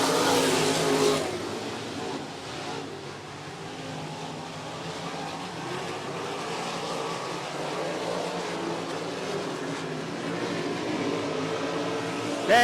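Race cars at green-flag speed on the 105 Speedway oval, a steady wash of engine roar and revving from the pack, moderately distant, holding level throughout with no talk over it.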